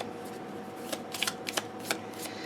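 Thick cardstock oracle cards being shuffled by hand late at night, a quick burst of papery riffles and soft snaps lasting a couple of seconds, close and clear.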